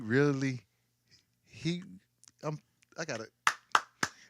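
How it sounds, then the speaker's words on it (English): Someone talks briefly, then a few sharp, close hand claps ring out in quick succession near the end, spaced apart in a short burst during a casual podcast conversation. "But the reason why I'm clapping for him"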